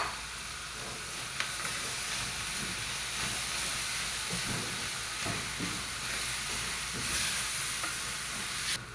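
Ground beef and pureed vegetables sizzle and bubble steadily in a pan as the mixture cooks down for shepherd's pie, with a constant frying hiss and occasional stirring scrapes, close and moderately loud with no talk.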